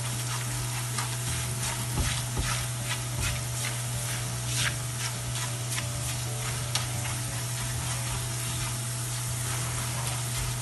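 Spiced masala with turmeric and red chili powder being mixed in a pan over a slow flame: steady low sizzling with soft scraping stirs throughout, a faint hum underneath, no talking.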